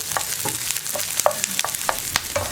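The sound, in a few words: onion frying with ginger and garlic in a pan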